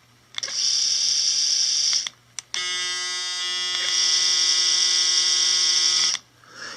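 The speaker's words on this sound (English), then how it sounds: "This Braun shaver is excellent. That's the noise there." A Braun Series 7 electric shaver buzzes loudly up close, switched on briefly, stopped, then run again for several seconds with a steady high-pitched hum.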